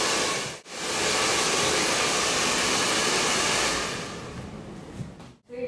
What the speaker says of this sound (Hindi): यहाँ पे ड्रायर यूज कर रही हूँ